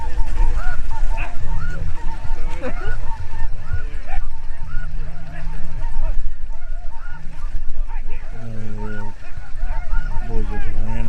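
A large flock of snow geese honks and calls loudly and continuously during a spring hunt, with many overlapping cries near and far and voices talking among them.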